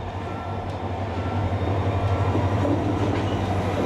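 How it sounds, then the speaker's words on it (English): A train in South Korea rumbles steadily past with a low droning hum and faint rhythmic clatter of wheels, continuous and fairly close. "The train is coming."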